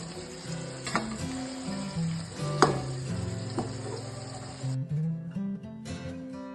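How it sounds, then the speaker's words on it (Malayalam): Chicken pieces fry in oil in a pan, a steady close sizzle with occasional clinks and stirring scrapes, ending with a quieter stretch of scattered utensil sounds. "ഇത് അടിപൊളിയായി പൊരിഞ്ഞ് കിട്ടിയിട്ടുണ്ട്"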